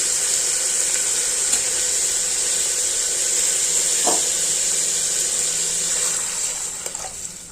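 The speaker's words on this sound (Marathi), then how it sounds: "थोडं पाणी टाकायचं" Water poured onto chickpeas in a metal pressure cooker with a steady rushing flow over a constant hiss, a brief splash midway, tapering off near the end.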